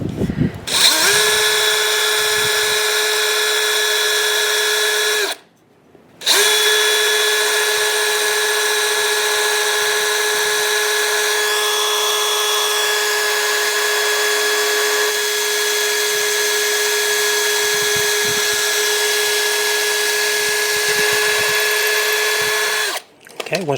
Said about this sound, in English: So let's drill this through here.